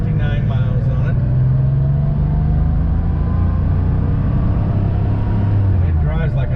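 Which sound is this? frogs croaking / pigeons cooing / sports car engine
sports car engine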